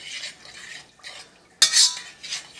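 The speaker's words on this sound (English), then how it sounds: "Stir it all together." A spoon stirs homemade barbecue sauce seasoned with salt and black pepper in a pot, making short scraping swirls and a sharp clink against the side, close and clear with brief pauses between strokes.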